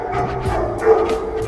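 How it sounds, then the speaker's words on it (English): Guard dogs kept inside a building in Los Angeles bark in a quick run of yips and woofs, muffled as if behind walls, with steady low background noise. "That's the most LA thing you could see, is a guard dog sign like this and actual active guard dogs in here."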